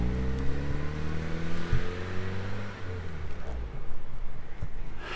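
A Nissan S15 revs and pulls away, its engine note climbing through several rising pitches and fading as the car drives off, with a brief thump partway through.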